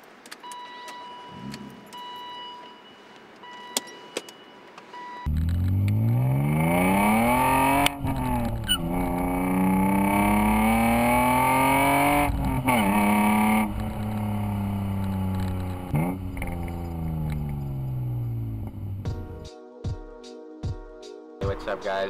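A BMW E36 M3 engine starts and pulls away, its strong harmonic drone rising and falling through the gears for about fifteen seconds before settling.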